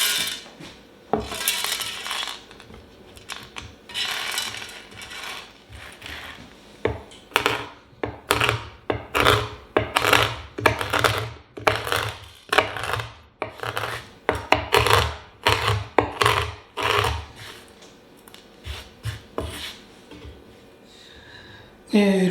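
Roasted coffee beans being chopped on a board for a coffee-flavoured bonbon chocolate filling, a busy run of close, crisp knife strikes and rasping cuts repeating in irregular bursts with no talking.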